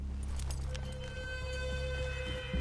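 Horse hooves clip-clop in the video game Red Dead Online, a steady rhythmic trot of hoofbeats over a continuous low game soundscape with tonal music.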